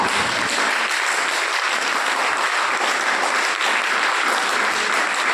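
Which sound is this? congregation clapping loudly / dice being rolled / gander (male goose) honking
congregation clapping loudly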